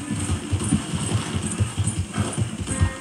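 Rhythmic hoofbeats of an Appaloosa horse in Red Dead Redemption 2 clip-clop steadily at a walking pace, close and fairly loud over a low background hum.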